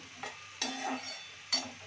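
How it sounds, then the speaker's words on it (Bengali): Soft sizzling with a few brief scraping stirs, close and fairly quiet, as dry fruits fry in a pan. "এটা কণিকার জন্য ড্রাই ফ্রুটস ফ্রাই চলছে আর কি।"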